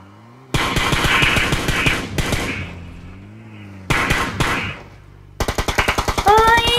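Rapid automatic gunfire in PUBG comes in loud, close bursts of fast shots with short gaps between them, plus a vehicle engine and a brief voice in the pauses.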